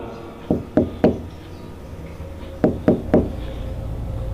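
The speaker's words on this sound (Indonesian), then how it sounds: "Kemudian pintuku diketuk lagi tepat 5 kali." Knocking on a bedroom door in a horror podcast sound effect, two sharp sets of three raps each, with a pause between the sets, close and distinct against a quiet background.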